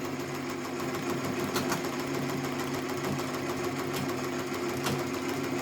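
A Tajima TMBR1501c embroidery machine stitches a cap, a steady fast mechanical rattle and hum that runs without a break, close and even throughout.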